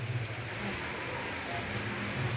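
Heavy rain pours steadily outside, a dense continuous hiss of falling water with a low background rumble, heard from indoors with no talk.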